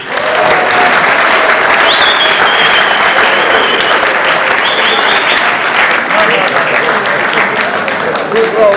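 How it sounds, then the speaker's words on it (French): An audience at the opening of an opposition platform convention in the DRC claps loudly and continuously, a dense wall of applause with some voices mixed in. "Applaudissons donc pour les professeurs de la classe."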